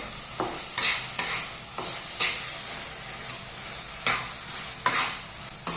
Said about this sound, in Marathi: सर्व मिश्रण हलवून घ्यायचं आहे. इथे आपला सर्व खवा यामध्ये एकजीव झालेला आहे.